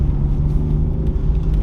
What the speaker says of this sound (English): the Dinan exhaust, the catback and X-pipe, it sounds really aggressive